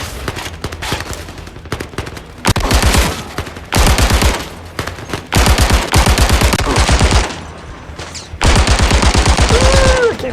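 Bursts of rapid automatic fire from a heavy machine gun in the VR shooter Zero Caliber Reloaded, loud and close, coming in several long strings separated by short pauses.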